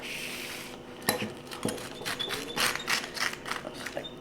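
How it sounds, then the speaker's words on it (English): A small pizza cutter rolls through crisp Cajun shrimp quesadillas, giving a few close, short crunchy and scraping strokes with light clicks against the plate or board. "I have my little pizza cutter here. We're just going to cut that along."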